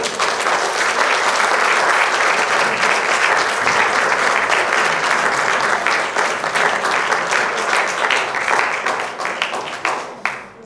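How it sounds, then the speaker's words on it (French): A cinema audience at a French youth orchestra event applauds Laurent: dense, loud, sustained clapping from a full hall that holds steady, then thins and tapers off near the end. "On applaudit Laurent."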